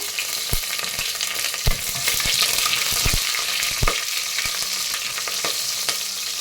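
Mustard seeds, cumin, curry leaves, and dried and green chillies frying in hot oil for rice and lentil lunch: close, lively crackling and popping over a constant sizzle, with sharp spatters scattered throughout.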